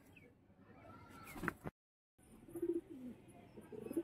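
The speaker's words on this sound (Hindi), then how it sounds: "ये कबूतरी है, बहुत अच्छा कबूतरी है, अच्छा उड़ान भी भरती है" Pet pigeon cooing softly in short low bursts close by, with a brief rustle or wing flutter and a short silent gap, quiet overall.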